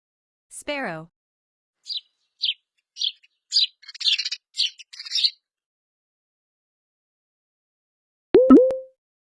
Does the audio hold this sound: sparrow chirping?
yes